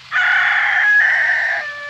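A single loud rooster crow rings out close by on a village chicken farm set among sugarcane fields, a sustained clear call lasting over a second with no talking.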